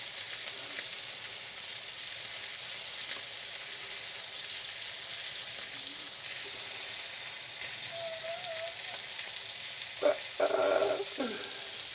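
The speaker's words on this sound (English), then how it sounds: "cook the bread up in that a bit. Just take on some of that flavour. And obviously from the black pudding and the bacon." Bread fries in black pudding and bacon fat, a steady soft sizzle throughout with a few brief clinks of utensils near the end.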